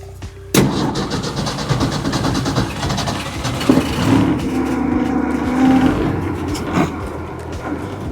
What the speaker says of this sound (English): now it's just idling. Oh, with no choke. this is happy.